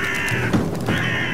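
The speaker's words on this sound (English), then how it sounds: "Oh, I hate crows." Crow cawing inside the horror video game A Machine For Pigs, two harsh rasping caws close and loud over a steady ambient drone, with no talking.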